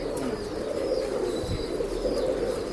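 Breeding pigeons at a Bangalore pet shop coo in a steady, low, overlapping stream, with several birds murmuring continuously and no break in the sound.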